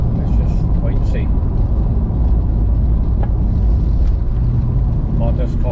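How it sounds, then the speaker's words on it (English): Steady wind buffeting and low engine rumble from a convertible driven with the top down on a fall drive in central Illinois, constant and loud throughout, no clear talk. "we get everything that's around me still, the wind and the sound of the car"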